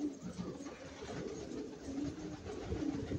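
Pigeons coo softly in a low, murmuring chorus close by, a steady layered burble over faint background noise.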